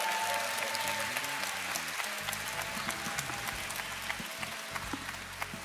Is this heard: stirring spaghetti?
no